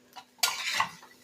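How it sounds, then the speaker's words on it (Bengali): Spiced puffed rice tossed with egg and capsicum is scraped from a pan onto a plate, making a brief burst of rustling and metal scraping with a light clink, close and without talk. "একটা প্লেট নিয়ে নিয়েছি, প্লেটে কিন্তু নামিয়ে নেব মুড়িটাকে।"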